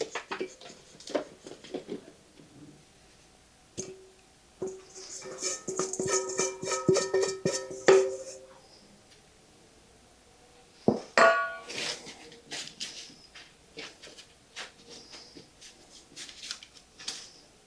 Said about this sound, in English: We're going to put this on our sheet pan in a single layer.